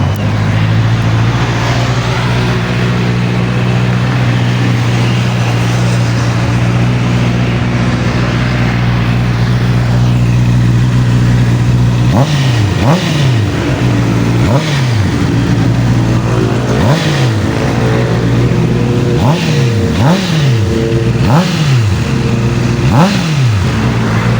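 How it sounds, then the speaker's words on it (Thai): A late-2019 red-and-black Honda CB650R with only 3,200 km settles into a steady, close idle, then from about halfway through gets a series of sharp throttle blips that rise and fall in quick succession. "ฟังเสียงเครื่องยนต์ครับ"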